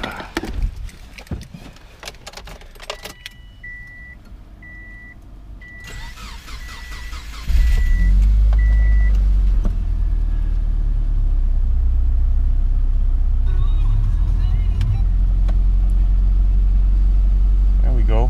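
A car engine cranks and catches after valve cover gasket replacement and spark plug cleaning, then settles into a loud, steady low rumble of running; a few warning beeps sound earlier, with talk before the start.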